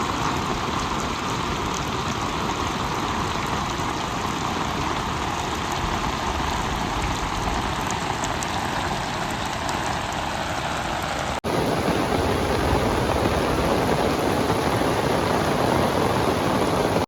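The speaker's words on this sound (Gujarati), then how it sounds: "આજે પાછો જોરદાર વરસાદ ચાલુ થઈ ગયો છે" Heavy rain pours onto flooded farm fields as a dense, steady roar that continues without pause and grows slightly louder after an abrupt shift.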